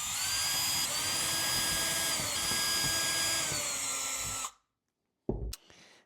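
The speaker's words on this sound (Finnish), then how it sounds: "Ja sitten porataan taustaan nämä merkkauskohdasta ja ne menee läpi saakka." Power drill boring through the backing board of a deer trophy mount, a loud continuous high whine for several seconds that stops abruptly, followed by a short clunk.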